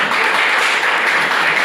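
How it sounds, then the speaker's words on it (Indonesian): A class gives a short burst of steady clapping for a guest speaker in a university sociology lecture, the applause dense and even for its brief duration. "kita aplaus buat narasumber 3"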